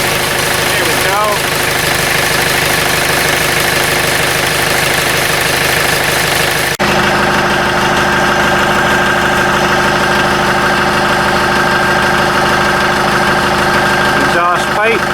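A 110TLB tractor loader backhoe engine idles loud and close with a steady, even mechanical drone and vibration, one abrupt change in tone partway through, and someone talking over it.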